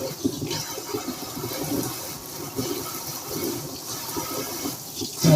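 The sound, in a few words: pouring lukewarm water onto sprouting seeds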